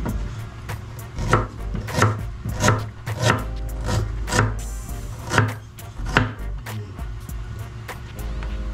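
Ginger is chopped with a knife on a wooden board, a run of crisp, close knocks in an uneven steady rhythm, about a dozen strikes with brief scraping between them.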